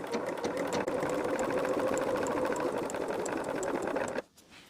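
A sewing machine stitches the seams of a quilt block with a fast, steady mechanical whir and needle chatter, close and loud, before it stops abruptly near the end.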